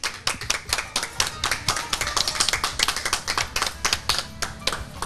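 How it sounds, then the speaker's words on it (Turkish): Rhythmic clapping from a studio audience on a Turkish TV entertainment show, crisp, close claps falling on a steady quick beat in sync, loud and continuous throughout. "Alkışlayalım babayı"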